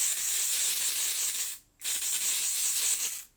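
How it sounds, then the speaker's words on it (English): Two close bursts of L'Oreal 3-Second Setting Mist, a matte setting spray, misted onto a face: bright airy hisses separated by a short gap, with no talking. "So I'm using a matte setting spray. I'm going with the L'Oreal 3-Second Setting Mist."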